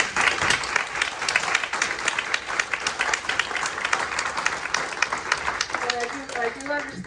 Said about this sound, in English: a round of applause for these candidates